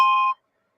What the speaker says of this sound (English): That was my ringtone, my cell phone.